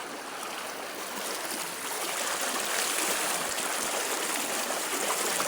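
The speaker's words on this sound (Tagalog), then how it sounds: "Nag-bro-bro ang tubig" A stream of water flows steadily outdoors, a broad, continuous rushing hiss that swells slightly louder partway through and carries on without pause, with no voices.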